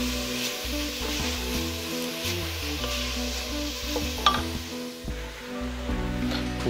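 Chili con carne meat, a full kilogram, is dropped into a pan already holding garlic and herbes de Provence, then frying and being stirred. A steady, dense sizzle continues throughout with scraping stir strokes and no talk.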